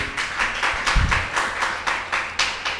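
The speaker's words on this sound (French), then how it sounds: "je vous demande d'applaudir Loni." An audience claps for a singer named Loni at a neighbourhood talent show, with a steady run of hand claps rising in repeated swells for about three seconds and no talking.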